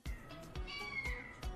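Cats at the Humane Society of El Paso shelter meow repeatedly, several overlapping cries with thumps between them, close and fairly loud.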